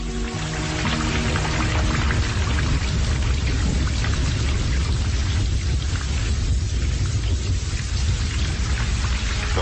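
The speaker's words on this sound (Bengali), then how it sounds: "সেই সঙ্গে ফের চেপে নামল বৃষ্টি।" Heavy rain pouring steadily and loud throughout, a dense close wash with low rumbling underneath like distant thunder, no voices, setting a stormy scene in a drama.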